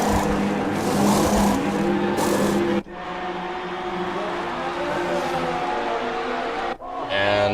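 Race cars scream past in the Formula J racing game at the British J-Prix, a loud, continuous engine roar with tire squeal that cuts out abruptly twice before surging back.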